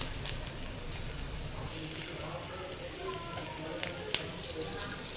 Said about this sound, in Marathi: कांदा चांगला फ्राय झाला की त्यामध्ये कसुरी मेथी टाकून व्यवस्थित मिक्स करून घेऊया